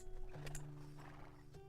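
A horse in the video game Black Desert Online whinnies once, a clear tonal neigh near the start, over steady game ambience with a faint short call later.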